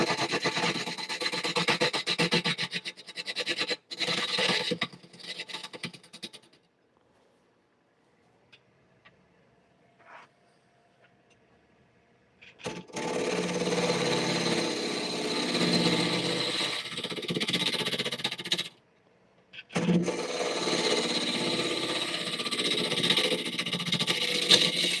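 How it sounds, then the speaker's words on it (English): Bowl gouge scraping spinning wood on a lathe, a steady loud rasping whir in three long stretches broken by a quiet pause in the middle. "So I'm just going to scrape this a bit with a bowl gouge."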